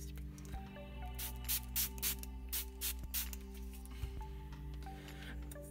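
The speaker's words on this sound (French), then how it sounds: "De fixateur, spray fixateur de maquillage" Makeup setting spray misted in a series of short hissing bursts, about five or six quick sprays close by over a steady low background hum.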